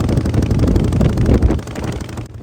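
A 1937 Morgan 3 Wheeler classic car on the move, its engine a loud, steady low rumble under heavy wind buffeting, continuous for a couple of seconds before dropping away abruptly at the end.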